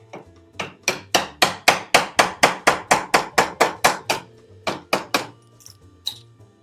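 Small chisel hammered into wood, a close, loud series of about twenty sharp, evenly spaced strikes in a quick steady rhythm, with a brief pause before a few final blows.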